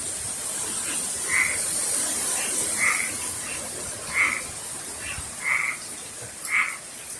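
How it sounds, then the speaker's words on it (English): Frogs croak in loud, repeated bursts, about five calls spaced a second or so apart. A steady hissing rush of hurricane wind gusts runs beneath them. "The frogs get all excited."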